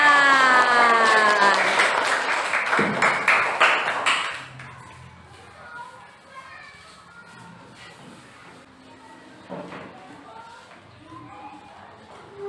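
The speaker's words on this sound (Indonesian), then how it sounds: "Mari kita sambut dengan tepuk tangan." Children in a classroom clap their hands in welcome, a loud burst of brisk clapping for about four seconds that then stops abruptly, followed by quieter room sounds and scattered taps.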